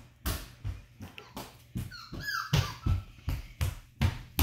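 Puppies in a litter stomping and bouncing around indoors, a quick series of soft thumps roughly every half second, with a brief high yip partway through.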